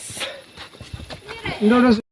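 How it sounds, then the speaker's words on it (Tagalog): A horse strains uphill on a tree-lined trail carrying riders, its hooves clopping in an uneven, close rhythm, and a voice rises briefly near the end. "Dito paakyat medyo nahihirapan yung kabayo kasi mabigat kasi tayo."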